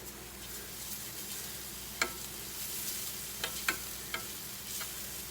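Butter melting in a frying pan on low heat while making bacon, egg and cheese wraps, a soft steady sizzle broken by a few sharp clicks of a utensil against the pan.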